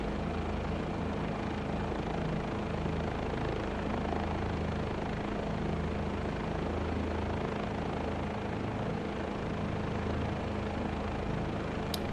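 Helicopter flying in Microsoft Flight Simulator 2024 on a Providence heli tour, a constant dense rotor and engine drone holding steady throughout, loud and even with no talking.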